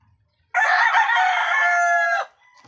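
A rooster at a small chicken farm lets out a single loud, close crow of about two seconds, with a few faint clucks from the flock before and after.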